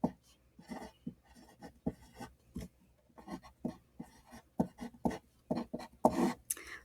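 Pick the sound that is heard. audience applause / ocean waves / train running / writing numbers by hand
writing numbers by hand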